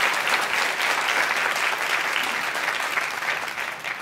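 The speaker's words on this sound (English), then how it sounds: "Please give that a round of applause." A theater audience at a Houston Ballet talk applauds the ballet Sylvia with a steady, dense round of clapping that holds evenly throughout the short burst.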